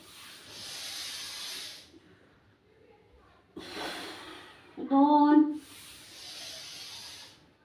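Slow, deliberate breaths during a home belly-fat exercise, soft hissing inhales and exhales in a steady cycle, close and fairly quiet, with a brief voiced strain in the middle.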